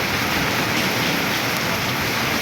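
Heavy rain pours down during a storm on a street of shops in Basirhat, North 24 Parganas, a dense, steady hiss of water close by with no pauses.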